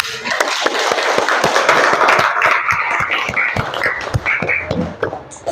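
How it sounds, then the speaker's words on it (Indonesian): A classroom of students in Indonesia claps for everyone, a loud run of sharp, irregular hand claps close by, with some voices mixed in. "tepuk tangan untuk semua"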